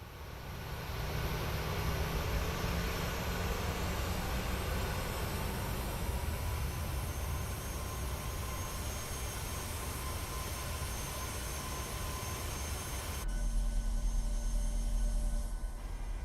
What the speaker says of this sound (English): Why does the engine sound like it's on such a high N1?